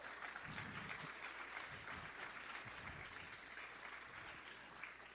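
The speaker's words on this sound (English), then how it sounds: "Give them a huge round of applause." Faint, distant applause from a large audience at a political gathering rolls on steadily without a break, soft and muffled throughout.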